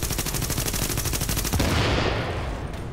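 Rapid automatic turret gunfire from Tom Clancy's The Division rattles steadily and loudly for about a second and a half, then breaks into a denser roar of mixed shots and impacts that fades slightly at the end.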